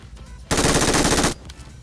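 Automatic gunfire in the PUBG Mobile battle royale game, a loud sustained burst of rapid shots lasting nearly a second, standing out sharply against quieter in-game ambience before and after.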